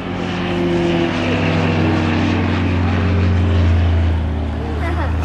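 A Piper Pawnee agricultural propeller plane flies at the East Fortune airshow, its engine a steady, loud droning hum with a slight swell partway through, filling the whole clip.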